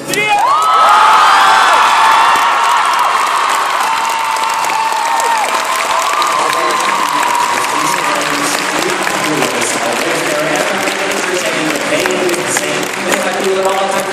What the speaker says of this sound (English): if you clap long enough, there may be an encore